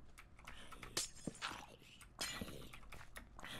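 Glass block breaking in Minecraft, heard as several short, crunchy shattering bursts spread over a few seconds amid other nearby game noises.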